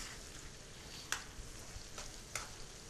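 Potatoes frying in a pan on a home stove, a steady soft sizzle with a few brief sharp crackles. Quiet and continuous, with no talk.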